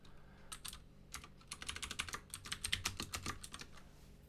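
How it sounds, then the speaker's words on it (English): Quick bursts of typing on a computer keyboard, close and fairly quiet, with irregular clusters of key clicks and short pauses, no voices. "Now, I'll just type it out again."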